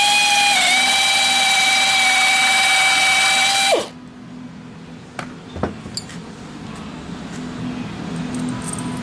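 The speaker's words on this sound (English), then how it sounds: "take a drill with an 8mm drill bit and drill down through the outer hole" A power drill with an 8mm bit whines loudly and steadily for several seconds drilling through a metal spreader bar on a sailboat mast, then stops abruptly, followed by quiet room sound and a few light metallic clinks.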